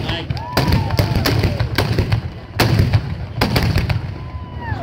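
Black-powder guns firing at the Cherryville New Year's shooting, a handful of sharp, loud blasts spaced a second or so apart, each ringing briefly over an outdoor crowd murmuring in the background.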